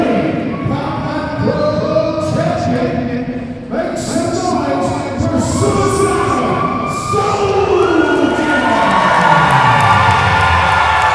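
A crowd at a pro wrestling match cheers and shouts loudly and continuously, with voices swelling and a rising chant or whistle-like cry building toward the end.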